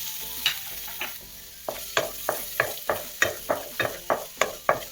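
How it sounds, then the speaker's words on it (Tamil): Onion sautés in melted ghee in a pan for a soup, giving a soft sizzle under a regular series of sharp stirring scrapes, close and clear, with no talk. "வெங்காயம் நல்லா வதங்கட்டும்."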